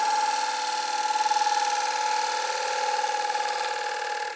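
A bowl gouge takes a light cut across a wooden bowl spinning on a lathe, giving a steady, close, loud shearing hiss with a faint rhythmic pulse, running alone and stopping abruptly at the end.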